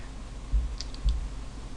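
Notes are being typed on a computer keyboard: two soft, muffled key thumps about half a second apart and a few faint light clicks, close and quiet against a low background hum.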